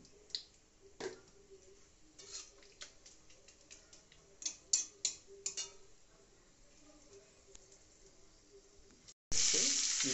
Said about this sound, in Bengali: কেটে রাখা পেঁয়াজ, দিয়ে ভালো করে ভেজে নেওয়া হচ্ছে